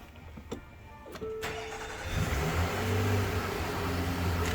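A 2022 Infiniti QX60 AWD starts up: a few clicks and a short crank, then the engine catches and settles into a steady, fairly loud idle with a low hum close by.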